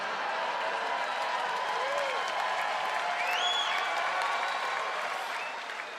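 A stand-up comedy crowd claps and cheers in a steady wash of applause, with a few voices rising over it before it begins to fade at the end.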